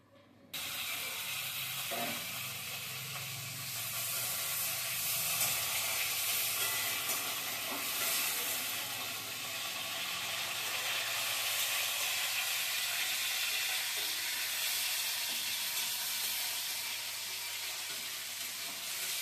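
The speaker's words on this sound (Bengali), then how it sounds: "তো কড়াই গরম হয়ে গেছে, সাদা তেল দিয়ে দিচ্ছি।" White cooking oil sizzling in a hot wok, a bright hissing crackle that starts abruptly and then holds steady and close for a long stretch, with occasional stirring clinks and no voices.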